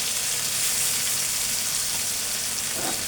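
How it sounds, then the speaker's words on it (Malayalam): Coconut oil sizzles and crackles in a pan, a close, steady hiss of frying with no talking. "ഇതൊന്ന് തിരിച്ച് ഞാൻ വെളിച്ചെണ്ണ ഇച്ചിരി കൂടെ ഒഴിച്ചപ്പം അത് ഇളകി വരുന്നു."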